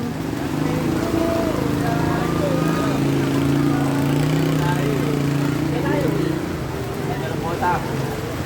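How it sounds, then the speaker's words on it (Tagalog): Steady heavy rain pours down, a dense hiss of water on surfaces with a low rumbling bed of noise throughout. "Bumigay na talaga yung ulan."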